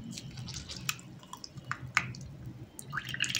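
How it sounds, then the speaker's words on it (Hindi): Water dripping and squishing from freshly grated potato being wrung out by hand in a kitchen, a few sparse, quiet drips and wet squelches over a soft background. "इसको अब धो लेते हैं और इसको निचोड़ निचोड़ के निकालेंगे"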